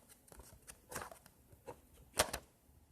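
Cardboard box being cut into strips about four inches wide, heard as a few sharp, separate snips and rasping slices with quiet gaps in between, close by and fairly loud.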